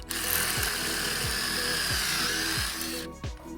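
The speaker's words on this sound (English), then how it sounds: "you just put this drill bit in the guides" A power drill whirs steadily at high speed, bogging down in short dips several times as it bores angled holes into wood through a drill guide, then stops near the end.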